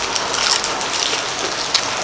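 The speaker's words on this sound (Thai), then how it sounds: "มันก็บรรยากาศฝนตก" Steady rain falls in a close, continuous hiss with soft patter on surfaces, an even wash of drops throughout with a sharper drip standing out near the end.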